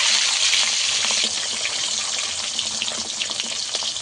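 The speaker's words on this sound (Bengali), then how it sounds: "উল্টো পাল্টে ডিমটাকে আমি একটু লাল করে ভেজে নেব।" A duck egg fries in a pan with a steady, bright hiss that runs evenly throughout, with small crackles and spatters scattered through it and no talking.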